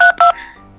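Two short, loud telephone keypad tones in quick succession as the police number 102 is dialed, alone and close, with a faint ringing tail after.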